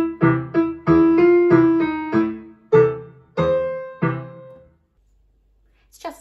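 Piano playing a slow passage, a string of struck chords and single notes that ring and decay one after another, close and clear, then a short silence.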